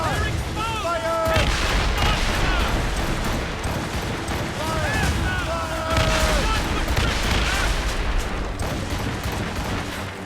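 Naval cannons fire in repeated heavy booms during an Assassin's Creed Rogue sea battle, close and loud, while shouted crew commands and orders carry over the barrage.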